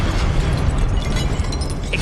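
In the Hogwarts Legacy video game, a Levioso spell goes off as a loud, sustained rush of crackling noise over a heavy rumbling low end, lasting about two seconds with no talking.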